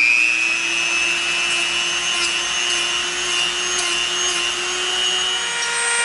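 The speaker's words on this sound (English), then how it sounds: "Now we're gonna go in with the Dremel and we're gonna round it all off." Dremel rotary tool rounding off the handle of an EVA foam medieval mace, a steady close high-pitched whine with grinding and rubbing texture that runs without a break throughout.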